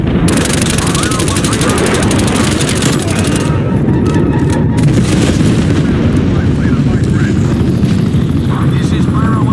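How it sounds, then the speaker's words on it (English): An attack helicopter in the Call of Duty Black Ops Cold War multiplayer match on the Hijacked map thunders with dense rotor roar, mixed with heavy booms and gunfire throughout. "Hunter requesting attack helicopter support."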